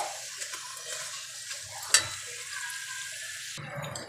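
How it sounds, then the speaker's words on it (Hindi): Aloo patties deep frying in hot oil over a medium gas flame, a steady close sizzle with a single sharp click midway and a brief shift in tone near the end. "एक एक करके सारे पेटीज को इसी तरह हम डीप फ्राई कर लेंगे।"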